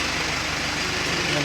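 A 2023 Mitsubishi L300 engine running steadily at idle with a fresh turbo replacement, a continuous low rumble throughout, with talk over it.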